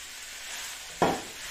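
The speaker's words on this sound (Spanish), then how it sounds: "Echamos los garbanzos, un poquito de sal." Chickpeas tipped into a hot pan of browned minced beef and chorizo give one sudden sharp sizzle burst that flares loudly and then eases into a softer frying hiss under quiet cooking noise.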